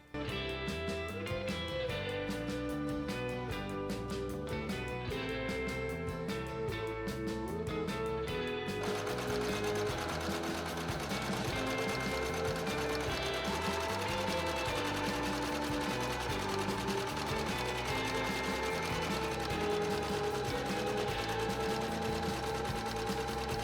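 A sewing machine top stitches fabric for a Victorian-style bodice under continuous background music, a low steady mechanical whir mostly buried beneath the tune throughout.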